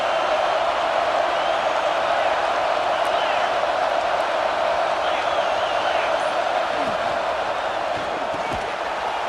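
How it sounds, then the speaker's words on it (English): A home crowd at a Texas versus Oregon football game roars in a steady, dense wash of cheering that holds loud throughout, with a broadcast commentator talking over it. "this home crowd is fired up and ready to make a difference today"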